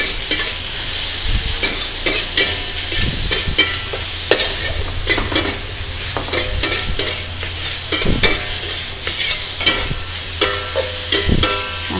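Beef being stir-fried in a wok with a little oil, a steady loud sizzle punctuated by repeated scraping and clacking of the spatula against the metal as the meat is tossed, close and continuous.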